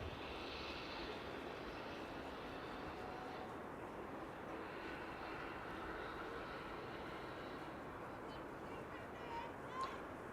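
An airliner landing at Amsterdam Schiphol runs its thrust reversers briefly, a steady broadband jet roar heard from a distance for about ten seconds, with outdoor ambience and no other sounds prominent.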